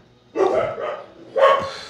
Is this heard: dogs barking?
yes